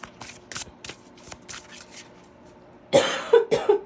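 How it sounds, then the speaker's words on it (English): A person recovering from a cold coughs, with a cluster of three or four harsh, close coughs near the end after quieter rustling and soft clicks. "I'm so sorry for coughing. I'm getting over this cold."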